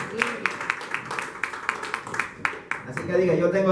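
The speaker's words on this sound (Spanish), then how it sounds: "Denle un poderoso aplauso al Señor." Congregation at Arca de la Salvación church in Panama clapping in a steady, fast rhythm, a dozen or so sharp beats close together, with voices and music rising underneath toward the end.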